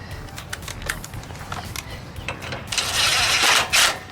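Socket wrench working bolts into a spring plate on a 1967 VW Bus frame under restoration: scattered close metallic clicks and taps, building to a louder, denser ratcheting burst near the end.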